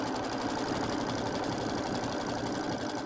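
A sewing machine stitches pieces of a quilted January bench square, running as a steady, continuous mechanical whir with fast rhythmic knocking throughout, close and even in level, with no voices.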